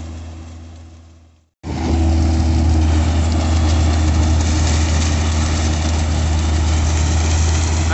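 A tractor engine runs during a mechanized sugarcane harvest, first a fading hum, then a brief gap before a loud, steady low drone takes over and holds close by.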